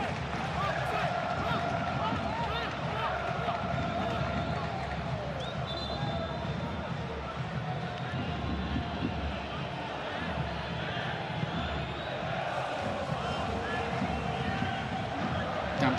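Inter Milan fans fill the stadium at a Europa League final against Sevilla with a constant roar of distant crowd noise and chanting, a broad wash that continues under a commentator's voice.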